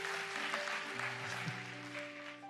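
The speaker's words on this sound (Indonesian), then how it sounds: "Boleh kasih tepuk tangan" Church congregation at a Sunday evening service claps at the pastor's urging, a faint, diffuse patter of applause under a steady hum of room tone, fairly distant and continuous.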